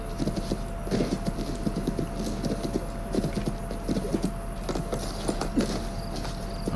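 Rapid hoofbeats of a galloping horse in Assassin's Creed Brotherhood, steady rhythmic thuds at moderate volume over a low background hum.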